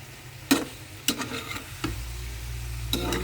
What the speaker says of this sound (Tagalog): Lutuin lang natin ng sandali yung ating kulitis.